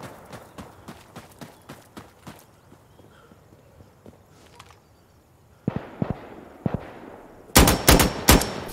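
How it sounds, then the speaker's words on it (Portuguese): Gunfire in the tactical shooter Insurgency Sandstorm: scattered distant single shots early on, then louder, closer bursts of rapid shots toward the end, with no talk. "ele está aqui porque eu escutei os tiros"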